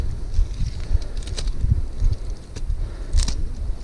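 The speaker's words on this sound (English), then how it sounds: "it happens to be a windy afternoon, quite choppy everywhere" Gusty afternoon wind buffets the microphone on choppy water near a dam during a crappie fishing trip, a steady low rumble with irregular swells and no voices.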